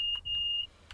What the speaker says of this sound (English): That was me doing the guard buzzer as well.